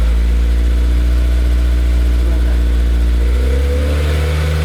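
A Honda S2000 fitted with an HKS Hi Power exhaust idles close by with a deep, steady drone, and near the end its pitch climbs briefly as the engine revs a little.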